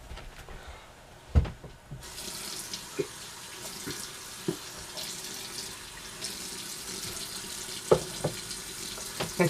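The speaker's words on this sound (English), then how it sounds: "So what I'm going to do now is rinse this off." A tap is turned on after a quiet start, and water then runs steadily into a sink as an item is rinsed under it. The hiss is close and continuous, with occasional knocks and splashes and no speech.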